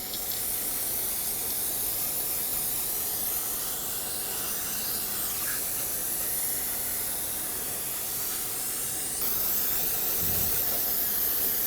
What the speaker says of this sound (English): I'm going to clean them off with some brake parts cleaner, just kind of spray it in the area